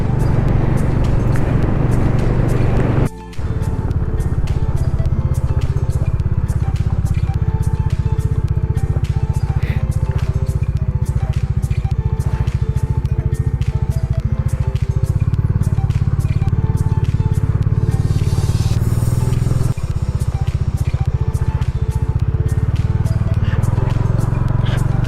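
Touring off-road motorbike on a solo ride toward Phoksundo Lake, a continuous engine drone and rumble with road clatter and wind, steady and close throughout, with a brief dip near the start.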